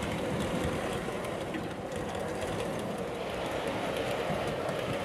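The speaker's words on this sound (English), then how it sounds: "Our BR Green review sample with full yellow ends was soon put through its paces on Hornby magazine's O-gauge office test layout, hauling a suitable rake of wagons" A BR green Heljan Class 20 O gauge model diesel locomotive with full yellow ends hauls a rake of wagons around an indoor test layout, producing a continuous, even rumble of running gear and wheels at moderate level.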